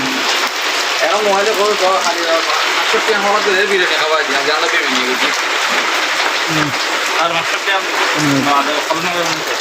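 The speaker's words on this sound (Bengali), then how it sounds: "কাঞ্চনপুর যাওয়ার সময় হঠাৎ বৃষ্টি পড়ে গেল, আটকে গেলাম।" Sudden rain pours down on the road to Kanchanpur, a dense, steady hiss that fills the scene while people talk loudly over it.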